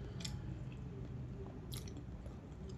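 Someone eating ginamos, a fermented fish paste, with bananas outdoors, soft wet chewing and occasional bites up close and faint over a low steady background hiss.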